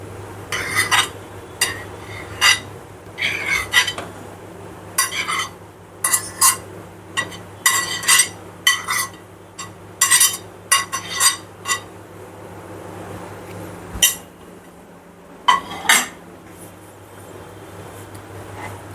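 A utensil stirring chhena (fresh cheese curds) into hot milk in a pan over a low flame for kalakand sweet, with irregular metallic clinks and scrapes against the pan repeating at an uneven rhythm close by.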